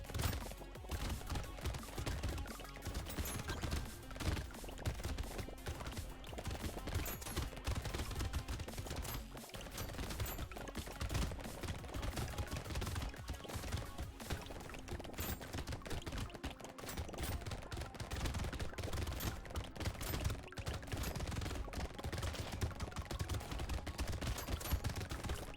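Rapid, dense gunfire from a cursed submachine gun in the Brotato arena game, a loud continuous stream of shots layered with game effects and music throughout, with no pauses.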